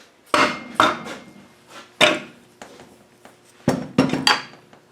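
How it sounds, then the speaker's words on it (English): Several sharp mallet blows strike Td5 gearbox parts on a workbench, arriving in uneven bursts of single and double hits with metallic ring, close and loud, with no talking. "Mallet."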